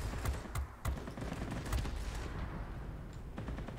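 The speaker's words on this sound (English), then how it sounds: "20mm cannons are overheating." Rapid bursts of 20mm aircraft cannon fire in a World of Warplanes air battle, sharp repeated reports over a dense continuous roar of engine and combat noise, no talking.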